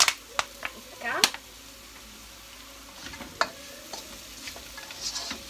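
Meatballs fry in oil with a soft sizzle under sharp clacks and scrapes of a utensil turning them, irregular and close, with quiet gaps between strokes.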